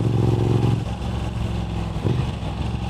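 A Moto Guzzi V7 Stone motorcycle fitted with an upgraded aftermarket exhaust runs close by. Its engine gives a loud, steady, throbbing rumble that swells slightly as it revs.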